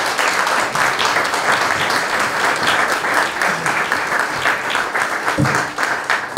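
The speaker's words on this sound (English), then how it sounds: "Give him a big round of applause." A room full of guests at a racing sponsors evening claps loudly and continuously, dense steady applause with no let-up.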